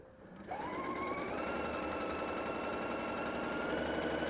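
A sewing machine runs steadily while stitching a seam on an inseam pocket with French seams. It starts abruptly after a brief pause, then keeps up a loud, continuous mechanical whir that rises slightly in pitch.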